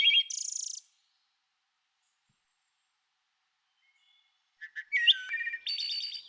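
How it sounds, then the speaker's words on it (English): Recorded bird song plays back during a children's bird-drawing lesson. A short, bright burst of chirps is followed by several seconds of silence, then a clear series of whistled notes and rapid trills, with no voices. "I'm just going to start playing you some bird sounds while you're drawing."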